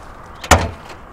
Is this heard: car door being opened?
yes